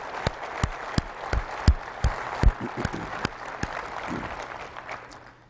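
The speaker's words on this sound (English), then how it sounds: "Please give them all a big round of applause." Scattered, sparse clapping from a conference audience at an opening general session, individual claps standing out near the start and thinning out toward the end.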